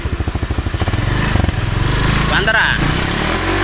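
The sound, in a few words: Honda Vario Techno motorcycle engine revving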